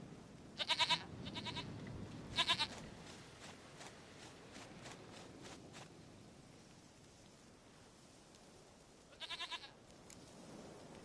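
A goat bleats in The Witcher 3 video game with short, quavering calls in three spaced bursts over a steady hissing ambient background, with no speech.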